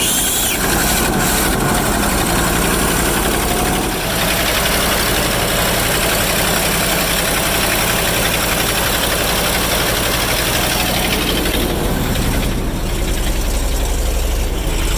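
An old truck engine, a 1975 International Fleetstar or 1960 Mack B-61, idles loudly and steadily up close, a continuous heavy low rumble with knocking vibration and no talk.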